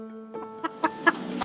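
A chicken clucks in a few short, close calls over about a second and a half, alone with no talk.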